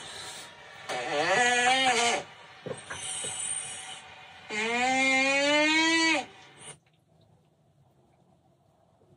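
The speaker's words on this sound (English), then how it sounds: "that's my cat snoring" A sleeping pet cat snores in three drawn-out, raspy, wheezing breaths, each wavering in pitch. It is fairly quiet and close, with silence after the last breath.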